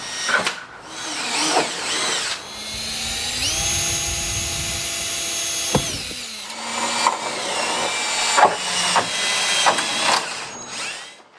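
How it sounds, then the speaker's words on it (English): A power drill whines up to speed and bores steadily into metal for a few seconds, then stops; shorter bursts of drilling and clicks follow, in a garage during a rock slider install. "Now we're ready for the bigger drill bit."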